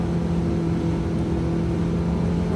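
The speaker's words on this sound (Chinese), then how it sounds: "油门都是不停的啊，都是到底的啊" A Mitsubishi Lancer on a closed driving course with a hairpin turn runs at full throttle, its engine a loud, steady, droning hum with strong even tones throughout, no one speaking.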